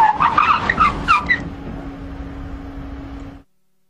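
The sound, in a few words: Monroe-equipped car braking hard with ABS at 80 km/h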